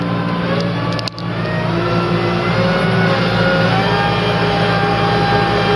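A tractor engine drones at steady high revs while driving during an oat harvest, a loud continuous hum with a brief dip near the start, no speech.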